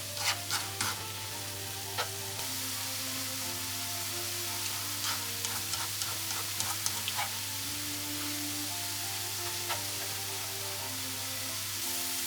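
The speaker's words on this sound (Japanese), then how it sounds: "調味料を加えて弱火から中火の火加減で混ぜて汁気がなくなるまで炒めていきましょう。" Burdock root stir-fried with seasonings over low to medium heat, a constant sizzle under a steady hum, with clusters of quick tapping and scraping stir strokes against the pan.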